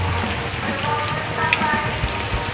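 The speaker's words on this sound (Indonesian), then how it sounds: "Awas hujan, nggak boleh main becek" Rain falling at Taman Matahari park in Puncak, Bogor, a steady dense hiss of drops pattering on nearby surfaces, continuous and fairly loud with no voices.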